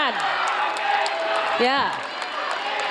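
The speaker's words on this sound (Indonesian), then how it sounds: "Sekarang boleh saya kasih waktu untuk berikan tepuk tangan bagi ketiga calon presiden." A presidential debate audience applauds and cheers for three candidates: a broad wash of clapping from a large crowd, with scattered whoops and voices rising over it, and a brief word spoken.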